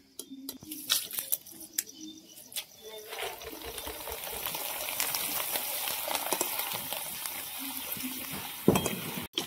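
Maize poha frying in a pan over an outdoor wood stove: a few scattered knocks and clatters give way to a steady, close sizzling hiss, ending with a sharp metallic clank.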